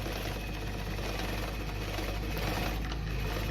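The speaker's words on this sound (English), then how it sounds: "I already placed the bobbin on the bobbin winder, and I push this towards the wheel." A Frister & Rossmann A-Z sewing machine winds a bobbin with a gentle, even motor hum and a faint rapid mechanical patter, close and steady throughout.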